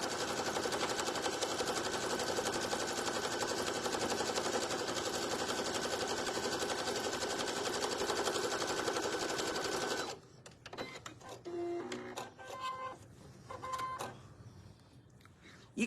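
A sewing machine runs very fast and steadily, stitching down the center of long, narrow quilted fabric sandwiches for a patriotic rag table runner. After about ten seconds it stops, leaving faint scattered handling clicks.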